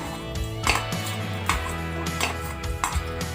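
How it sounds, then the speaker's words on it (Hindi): Boiled potatoes being mashed for potato halwa, with soft rhythmic thuds and scrapes of utensil against a pot, a close, steady series of impacts over a low background hum. "जब तक हमारा घी गर्म होगा हम आलू मैश कर लेंगे।"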